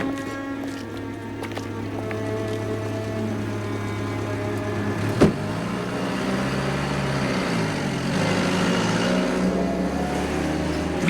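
A car's engine hums steadily at close range as it waits to pick up a passenger in 1942 Luxembourg, with a single sharp knock partway through and the hum rising a little afterward.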